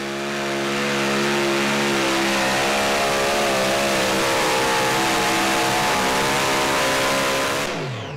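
A pulling tractor from an unlimited super stock class at a Saluda, South Carolina farm pull roars loudly and steadily down the track, its engine held at high revs with rising harmonic whine for about eight seconds before cutting off.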